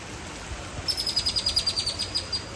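A bird at a zoo chirps in a quick, steady run of about a dozen high, thin notes, fairly close and clear over soft background ambience.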